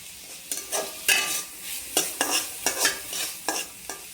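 Paneer bhurji with coriander is stirred and sautéed in a pan, a spatula scraping in a series of quick, close strokes over a soft steady sizzle.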